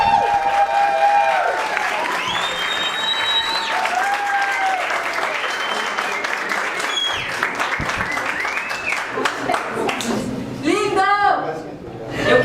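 An audience applauds a Brazilian stand-up comedian at the start of a short comedy special: a steady dense wash of clapping with cheering voices rising over it, continuing throughout before swelling again near the end.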